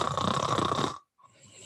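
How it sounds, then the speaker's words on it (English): Loud, steady snoring sound effect in a radio advertisement for a snoring treatment, continuing for about a second before a brief silence, then a fainter snore-like sound returns. "Do you suffer from secondhand snoring?"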